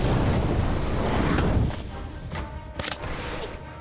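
An Incendio fire spell is cast in Harry Potter: Magic Awakened, a loud roaring whoosh of flame for about a second and a half, then fading into softer crackles and sparkly high bursts.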